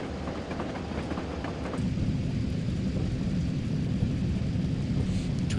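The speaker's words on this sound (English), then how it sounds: "It's a long train." A long freight train, hauled by a Class 50 locomotive in Weardale and Teesdale, passes on a bridge with a steady low rumble that swells and holds as the wagons roll by, and no talk.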